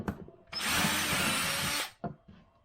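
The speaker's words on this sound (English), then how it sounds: "drill you a pilot hole in it" A power drill bores a pilot hole into a piece of wood for a gas roof pump proportioner build, one loud steady whine of about one and a half seconds, followed by a couple of faint knocks.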